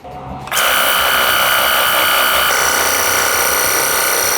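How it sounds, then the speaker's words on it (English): A Worx Hydroshot cordless pressure washer starts abruptly and runs steadily, a loud continuous motor whine with hissing spray as it blasts dirty shoes, with no voices. "I'm not actually gonna brush them, I'm just gonna see what the washer can do."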